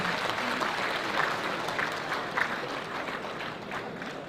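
A large crowd at a Yobe State public event applauds in a dense, sustained wash of clapping that holds at an even level throughout.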